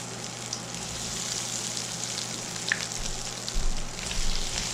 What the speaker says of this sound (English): we are going to start the shallow fry of the paneer